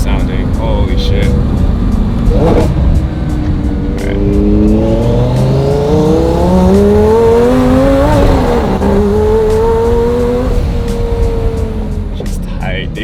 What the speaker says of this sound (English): Downshifts are super clean too. Dude, those turbos are so beautiful sounding.